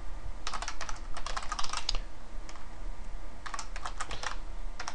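Rapid bursts of computer keyboard typing in two clusters with a pause between, close and clear, no voices present.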